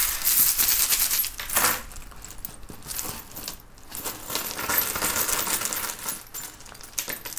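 Small charms are cast for a divination reading, giving bursts of light metallic clinking and rattling as they tumble and settle, close up and fairly quiet, with no voices.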